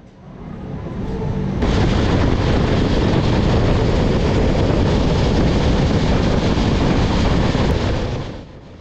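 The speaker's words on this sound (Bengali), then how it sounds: "ট্রেন এখন ভালোই স্পিডে চলছে।" A Duronto Express running at speed between Bhubaneswar and Howrah, a loud steady broadband rumble and rattle that swells sharply after a quieter start and holds constant, with wind roar throughout.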